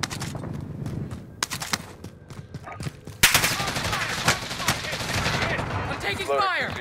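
Video game gunfire rattles in sharp bursts and single cracks at mid distance, thickening into louder rapid volleys partway through, with whooshing effects and faint radio-style chatter beneath.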